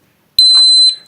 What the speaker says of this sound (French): Là, il envoie une alarme